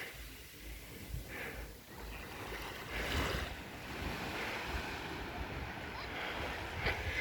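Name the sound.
waves at a beach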